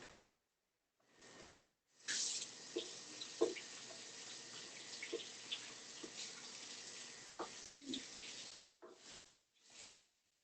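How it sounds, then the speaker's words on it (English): A kitchen tap runs for about seven seconds while hands are washed beneath it, a steady close splash of water with brief quieter gaps and small clatters before and after. "I'm going to go wash my hands"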